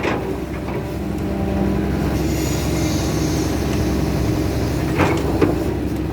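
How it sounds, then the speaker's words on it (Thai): A truck engine revs gently at a steady, moderate level: a continuous low rumble close by with a slight swell near the end, carrying no speech. "เร่งเครื่องเบาๆ ครับ"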